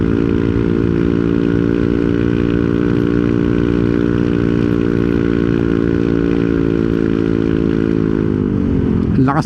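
A Yamaha NMAX Techmax 155 scooter fitted with an open muffler drones loudly and steadily as it rides uphill, its raspy exhaust held close and constant before easing off at the very end.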